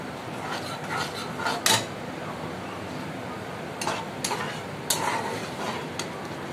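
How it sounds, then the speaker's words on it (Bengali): Spice masala with salt and turmeric being sautéed and stirred in a pan for a fish curry in mustard paste, heard as soft scraping and a few sharper clinks of utensil against metal over a low steady background. "এবার মশলাটাকে ভালো করে কষিয়ে নেব।"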